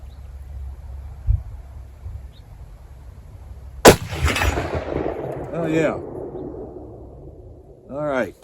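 A Mosin Nagant 91/59 carbine firing Czechoslovakian training ammo at a steel target 240 yards away: one sharp, loud report followed by a long rolling echo that fades slowly outdoors, with only faint low rumble before it.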